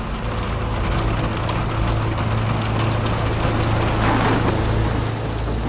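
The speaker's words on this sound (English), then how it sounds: "And the raindrops hit them like bullets." Heavy rain pelts steadily around wind turbine rotor blades, producing a dense, continuous hiss of droplets that stays loud and even throughout with no voices.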